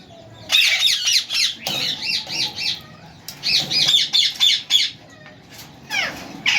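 A pair of yellow ringneck parakeets squawks in loud, close bursts of harsh repeated calls, with short pauses between the bursts.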